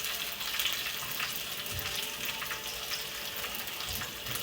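Eggplant frying in a pan for a dal vange dish, a constant hissing sizzle of hot oil with faint scraping stir sounds and occasional low knocks, close by and unaccompanied by talk.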